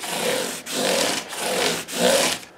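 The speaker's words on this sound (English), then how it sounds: "We're going to go straight to the scrub block and then we'll do our final buff" Guitar frets on a 1963 dot neck 335 are rubbed with a 1200-grit scrub block in four even back-and-forth strokes, a close, steady rasping hiss with short breaks between strokes.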